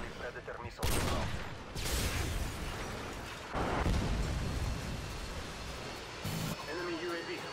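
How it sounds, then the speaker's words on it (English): Predator missile strikes in a first-person shooter video game land as a few loud, close booming blasts, each followed by rumbling debris, while game voice announcements are heard in between. "Friendly Predator missile inbound."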